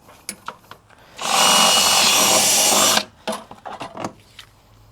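A power drill bores a hole for a dragonfruit trellis in one loud, steady burst lasting about two seconds, framed by quieter handling knocks and taps before and after.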